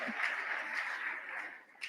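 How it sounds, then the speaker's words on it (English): A crowd at a school career day applauds, with dense, even clapping held for a couple of seconds at moderate distance, and a voice briefly breaks in near the end. "A round of applause for Nyambura."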